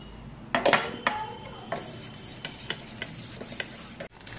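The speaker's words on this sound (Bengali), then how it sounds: "আমি একটা ডিম ভেজে নিচ্ছি" An egg with onion, tomato, chili and garlic is fried in a pan at home. Repeated metal utensil clinks and scrapes against the pan ring out over a soft sizzle, close by, with no talk.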